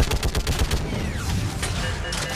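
Rapid gunfire in the Mass Effect 3 video game, a dense burst of loud shots rattling at the start and then thinning into a busy mix of game effects.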